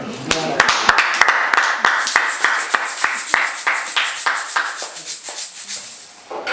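A congregation claps during a French-language church service to acclaim the Lord. The claps are brisk and irregular and fill the room, with voices and cheering mixed in.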